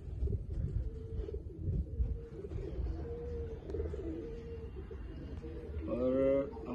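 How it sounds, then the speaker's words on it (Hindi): Pakistani pigeons coo in a low, soft, continuous murmur with a few brighter calls near the end, heard close up under background chatter. "बिल्कुल ओरिजिनल कबूतर है ये पाकिस्तान के"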